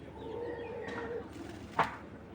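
A female racing pigeon coos softly in low, rolling tones, followed by a brief louder flutter or rustle near the end, close and fairly quiet.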